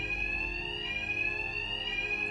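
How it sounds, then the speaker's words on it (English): Bank alarm in a video game heist, a continuous shrill electronic ringing tone held steady and loud throughout, with no voices. "My attacks will be covered by the noise of the alarm."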